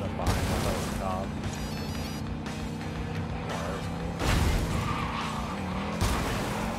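An engine roars in from behind in Cyberpunk 2077, loud and steady with tire skids and impact thuds over a busy game soundscape.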